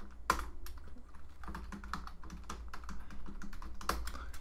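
Typing on a computer keyboard at a desk while working on an Apalis iMX8 board, with steady close clicks of keys in irregular bursts and occasional louder keystrokes, quiet and without talking.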